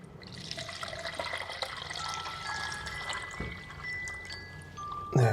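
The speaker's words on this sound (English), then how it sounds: "I'm just going to put some of the water" Water poured steadily into a container from a zero ppm filter, a continuous trickling stream with a few small drips and a bump at the end.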